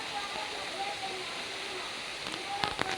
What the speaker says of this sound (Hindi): बहुत तेज बारिश भी हो रहा है गाइस।